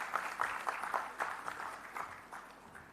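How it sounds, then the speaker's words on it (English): An audience at a graduation ceremony gives a brief burst of quiet, scattered applause, with steady clapping from a modest crowd heard at a distance. "Please put your hands together and give him a round of applause."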